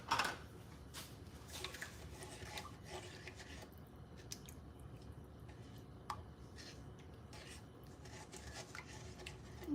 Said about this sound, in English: And then you mix this with a spoon.